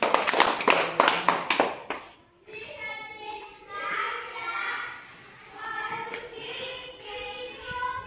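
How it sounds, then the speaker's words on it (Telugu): Children in a primary classroom clap together in a fast burst of loud, close claps for about two seconds, then talking follows with children's voices. "వెరీ గుడ్ మా. క్లాప్స్ మా."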